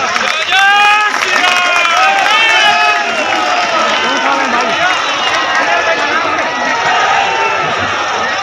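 Crowd at a political rally in Korba breaking into sustained applause and cheering, a dense wash of clapping with voices and shouts rising over it, loud and continuous throughout.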